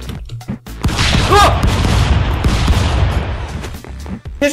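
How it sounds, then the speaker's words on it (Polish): Rapid, dense bursts of shotgun fire in the brawler video game Stick Fight: The Game, loud and continuous for several seconds with crashing impacts layered in. "Ciężko się z tego shotguna strzela."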